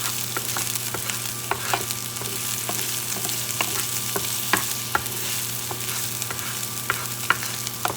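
Onions fry in a pan, giving a steady close sizzle and hiss with scattered small pops and a low hum underneath, no voices.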